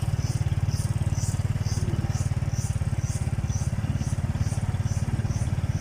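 A motorcycle rides along a track through a durian orchard set among oil palms, its engine a steady, close, continuous low putter with rhythmic pulsing and no pauses.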